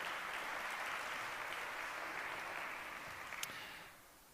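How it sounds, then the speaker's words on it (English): Steady applause from a conference audience welcoming the president of Harghita County Council in Romania, a dense even clatter of many hands that holds for about three seconds and then fades out. "A round of applause."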